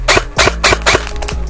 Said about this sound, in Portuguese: Primeiro semiautomático, depois vamos pro full.